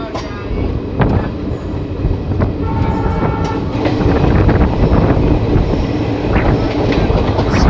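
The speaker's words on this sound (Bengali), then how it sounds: "স্মোকি ইএমডি লোকোমোটিভ ছুটে চলেছে গন্তব্যের উদ্দেশ্যে আঁকা বাঁকা জঙ্গলের পথে।" An EMD diesel locomotive hauls the Siliguri–Bamanhat Intercity Express through Dooars jungle, heard as a loud, steady rolling rumble of wheels and wagons with faint rhythmic clatter and no voices.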